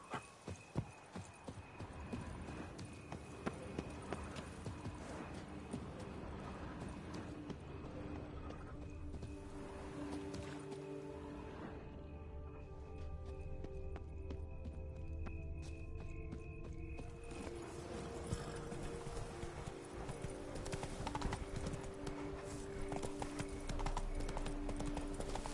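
Roach the horse in The Witcher 3, hooves clip-clopping in a regular steady gait throughout, fairly quiet beneath a dense game score and ambient wash.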